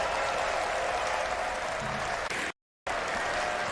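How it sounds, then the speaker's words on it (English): A large esports arena crowd at a Dota 2 major tournament roars and applauds in a loud, sustained wash that cuts out briefly before resuming. "The crowd is cheering for something."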